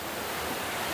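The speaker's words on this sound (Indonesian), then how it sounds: "Dan juga air terjunnya mengalir dari atas ke bawah" Watu Ondo waterfall in Cangar, Batu, East Java, flowing down: a steady, dense rush of falling water filling the whole moment, close and continuous with no voices.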